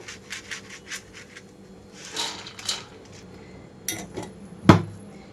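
Fried poha mixture ingredients are moved onto a plate, giving soft scrapes, light clinks of utensils and one sharp metallic knock near the end, all close with no speech.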